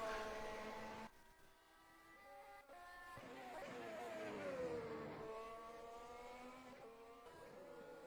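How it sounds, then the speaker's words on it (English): Formula 1 hybrid race car engines in the video game rFactor 2 at Bahrain, a high harmonic whine that drops on downshifts and then climbs and sweeps as the car accelerates, continuous and fairly loud. "So what do you think of the sound of these F1 cars?"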